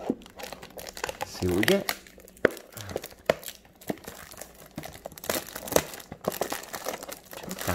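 Foil packs of 2018 Topps Chrome baseball trading cards crinkle and rip open up close, with bursts of crumpling wrapper running under steady conversation between two people.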